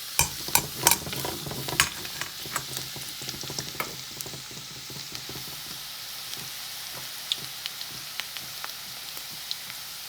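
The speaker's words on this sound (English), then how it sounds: "these are around 3 or 4 garlics which I'll add them in the hot oil" Three or four garlic cloves sizzle in hot oil while a spoon stirs them, with sharp scraping clicks close by at first, then a softer, steady crackle with scattered taps and no talking.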